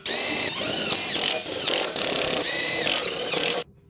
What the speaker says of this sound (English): Now we have the 13mm socket on the large impact wrench, and we're going to tighten all 8 of the bolts attaching the base.